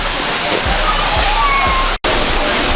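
A small waterfall in the woods gives a steady, close wash of rushing water throughout, briefly cut by a momentary dropout near the end.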